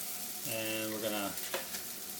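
Black bean burgers fry in a heated pan, giving a soft, steady sizzle with a brief tonal whine in the middle and a small clatter near the end.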